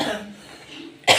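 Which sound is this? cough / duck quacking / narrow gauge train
cough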